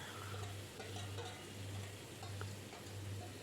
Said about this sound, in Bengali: ম্যারিনেট করা মটনটা তেলের উপর দিয়ে দিলাম